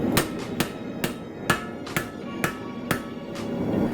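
A hammer strikes hot steel while forging the bevels of a knife blade, about eight sharp ringing blows at an even, unhurried pace, close and clear with no talk.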